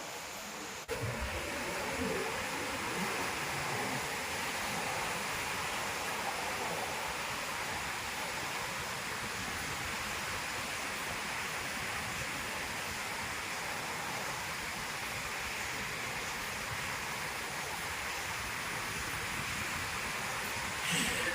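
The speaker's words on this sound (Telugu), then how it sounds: "చాలా అంటే చాలా డేంజర్గా ఉంది చూడండి సముద్రం. ఇప్పుడు నేను ఉంచున్న దగ్గరికి ఒకటేసారి వచ్చేస్తుంది స్పీడ్గా." Sea waves at Antarvedi beach surge in and wash back out in a steady, loud, broadband roar that stays close and continuous throughout, with no voices heard.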